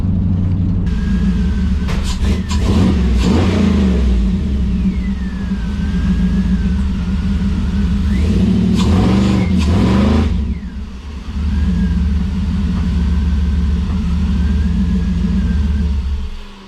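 The LS-swapped 1957 Chevy's V8 roars loud and close under hard acceleration, engine note climbing and falling through several surges over a constant deep rumble, with a brief lift-off dip near the end.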